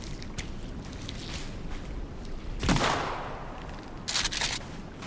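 Gunshots in the Sons of the Forest survival game, a few sharp cracks including a loud blast near the middle and a tight burst toward the end, over a steady ambient background.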